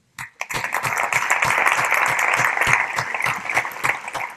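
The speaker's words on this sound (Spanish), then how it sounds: "Así que os invito a todos a darle la bienvenida y aplaudirlo." Audience applause welcoming an ambassador at a Global Entrepreneurship Week event: dense, steady clapping from a sizeable crowd starts abruptly, holds at full strength for about four seconds, then begins to thin.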